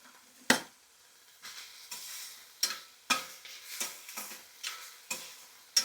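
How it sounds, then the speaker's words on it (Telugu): Coriander leaves fry in a pan while a spatula stirs them, with a steady quiet sizzle broken by repeated scraping clicks at an uneven rhythm, close by, with no talking. "కొత్తిమీర వేగిందంటే మాత్రం కొంచెమే అవుతుంది."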